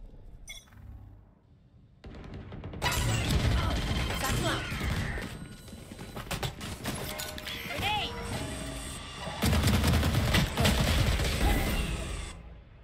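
Gunfire in the Valorant shooter game during a college esports match, with bursts of rapid shots and clinking mechanical clatter over a busy, loud mix, and a commentator talking throughout.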